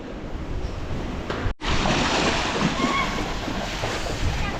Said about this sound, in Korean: 비도 오고 바람도 불고